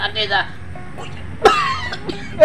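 A person coughs a few times in a comedic domestic scene, short bursts near the start and again around the middle and end, with background voices and room noise.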